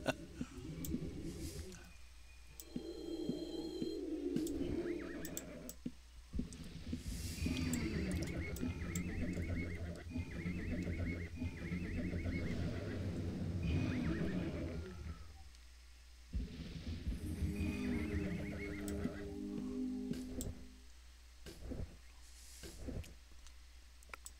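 A horse neighs and whinnies repeatedly across a long stretch, loud shrill calls alternating with snorts and a few hoof clops, close by with no speech; an ethereal horse mount in the video game Ultima Online.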